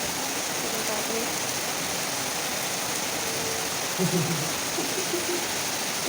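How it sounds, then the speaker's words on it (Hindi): Heavy monsoon rain falls steadily in a hill village, a dense, even hiss that holds throughout at close range, with a few faint background sounds near the end. "बारिश देखो कितनी तेज़ हो रही है।"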